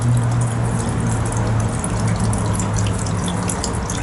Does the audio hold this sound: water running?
yes